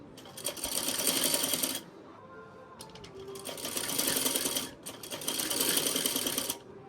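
A hand-operated sewing machine stitching a farshi shalwar runs in three fast whirring bursts of rapid needle clatter, separated by short pauses, close and loud, with quiet background sound between runs.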